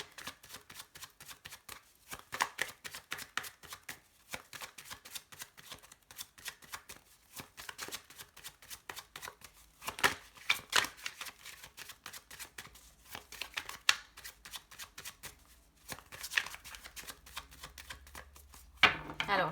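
Tarot cards are shuffled by hand close up in a run of quick riffling and flicking bursts broken by short pauses, crisp and fairly quiet, with no talking.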